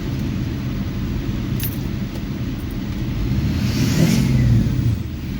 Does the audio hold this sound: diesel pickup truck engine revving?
yes